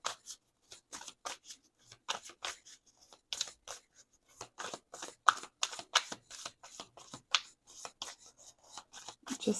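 Tarot cards being shuffled by hand: quick, faint, close-up riffles and crisp snapping taps in irregular bursts, with no other sound.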